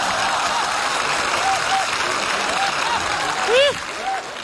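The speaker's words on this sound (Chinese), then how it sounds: "这大姐姐还鼓掌呢" Studio audience applauding during a comedy sketch, a steady dense wash of clapping throughout with a brief swell near the end and faint vocal sounds over it.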